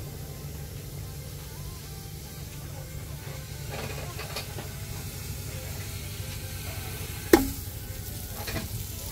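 A soft, steady sizzle and hiss as dairy cream goes into a hot pan, with occasional stirring scrapes and a sharp clink partway through.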